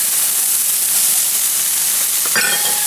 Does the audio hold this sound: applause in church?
no